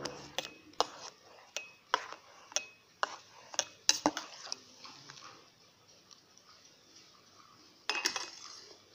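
A metal spoon repeatedly tapping and scraping against a pot while stirring milk with mawa for a fruit sweet, producing a steady series of sharp clinks about every half second, fairly close and moderately loud, with no talking.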